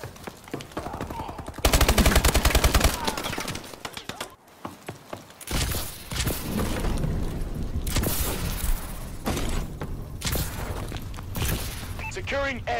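Call of Duty Advanced Warfare multiplayer firefight on the Ascend map with the ASM1 submachine gun: rapid automatic bursts and scattered shots, loud and close, mixed with game voices and effects.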